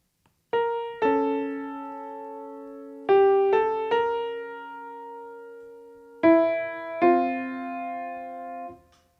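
Piano notes played in two voices, a few sustained chords struck in pairs and left to ring and decay, clear and close with no talking.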